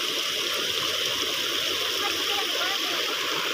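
Floodwater surging through a village, a steady loud broadband rush of flowing water that never lets up, close by and dominating throughout.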